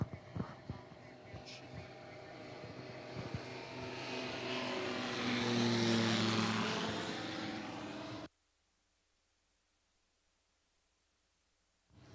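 A Highlander or Just Aircraft kit plane with a 914 engine comes in at a STOL competition. Its propeller drone swells as it passes close, peaks, then cuts off abruptly, with talk underneath.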